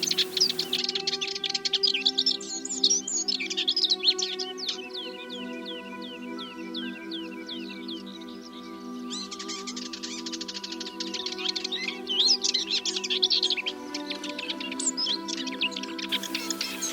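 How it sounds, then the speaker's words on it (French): Many birds chirp and sing outdoors in open heathland with flowering broom near Ploufragan, a dense overlapping chorus of quick trills and tweets, some close and loud, over a steady lower hum. "les oiseaux sont bien là"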